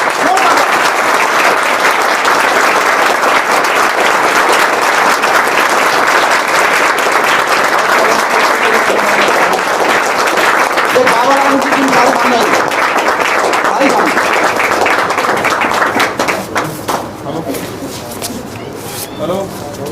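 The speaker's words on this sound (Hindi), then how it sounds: "जोरदार ताली होना चाहिए।" Loud, sustained applause from a seated audience at a police recruitment guidance and motivation event, dense steady clapping for about fifteen seconds before it thins out and fades.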